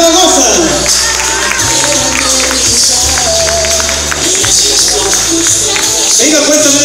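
A crowd at a primary school graduation ceremony keeps up dense, continuous clapping and cheering throughout, with an announcer's voice carrying over the noise.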